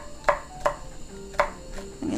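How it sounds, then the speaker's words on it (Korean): Green onion being sliced with a knife on a cutting board, with four crisp, evenly spaced chops ringing out close and clear over quiet background. "대파는 그냥 송송 썰을 거예요."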